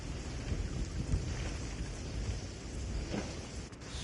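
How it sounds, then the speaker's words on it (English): Steady rain with low thunder rumbling during a thunderstorm in a video game, heard around a ship at sea. The downpour is a constant broadband hiss throughout, with no voices. "I guess I can't hang out on the ship in the thunderstorm."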